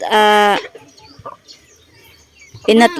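Chickens cluck and call loudly in a coop in the afternoon, with a strong drawn-out squawk at the start and another near the end, and quieter scratching and faint bird noises between.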